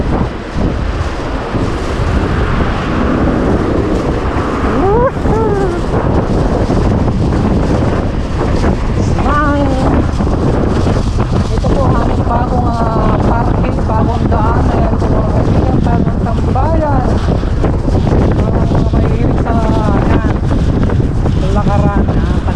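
Strong wind gusts at night in Punggol Park roar steadily into the microphone throughout, and someone talks intermittently over the buffeting.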